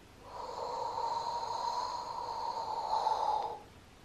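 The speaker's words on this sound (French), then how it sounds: "Ok, donc j'inspire." A trumpet teacher demonstrates deep belly breathing with one long, steady, close inhalation through the mouth lasting over three seconds, a hollow airy tone, then a sudden stop and no talking.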